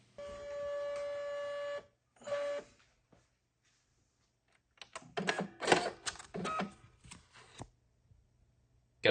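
A small Brother QL Series label printer whirs in a steady mechanical run, then after a pause feeds in a series of short buzzing bursts and clicks before stopping.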